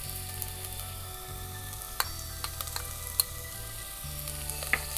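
Onions, ginger and red onions frying in a pan make a faint, continuous sizzle with a few light utensil clicks over a low steady hum, and no voices.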